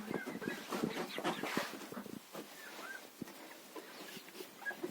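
Hens in a chicken coop make soft clucks and brief squawks at moderate distance, mixed with scattered rustling and small knocks from the coop.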